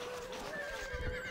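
A horse whinnies in a rising and falling neigh in Stronghold: Crusader, fairly quiet, with faint hoof clatter and game-like ambience underneath.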